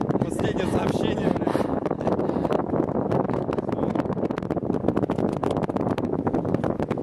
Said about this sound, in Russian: Давай, Никита, ветер усиливается.